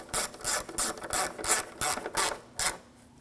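A hand ratchet clicks in short back-and-forth strokes while tightening headlight assembly bolts on a 2007-2013 BMW 328i, about eight close, crisp bursts in a steady rhythm before stopping.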